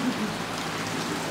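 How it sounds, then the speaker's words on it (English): Rain falling steadily during a summer trip to Disney, a soft even hiss of drops on surfaces with no break, fairly quiet and without voices. "it's raining right here, but not over there"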